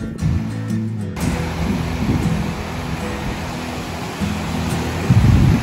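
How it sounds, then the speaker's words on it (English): Waves from a big boat's wake wash against the shore at a clamming spot, a steady broadband surf rush with wind noise, growing louder near the end. "Big boat came by and made lots of waves."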